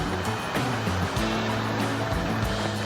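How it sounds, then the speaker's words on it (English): A river flowing beside a backpacking trail, a steady close rushing roar of water with faint rhythmic surges and no voices. "So, wow, this is a lovely river. I don't really want to camp next to it though"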